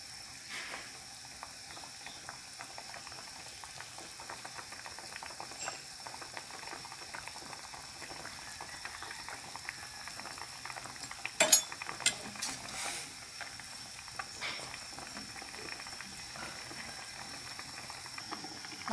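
A pot of Thai jungle curry with tilapia and fermented fish sauce boils steadily, giving a close, continuous bubbling hiss with faint clicks and a few sharper clinks partway through.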